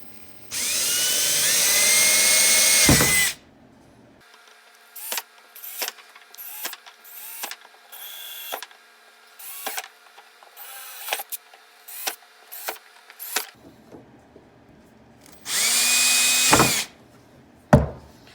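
A power drill bores holes for a DIY aeroponic tree cloner, with two long loud whining runs at the start and end. Short clicks and knocks fill the quieter middle.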